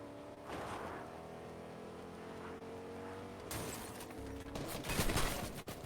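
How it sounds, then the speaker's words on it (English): Gunfire from a Fortnite match crackles along a road in the game, layered with a steady engine-like drone and a burst of louder activity near the end, with no voices. "Shots fired right down the road."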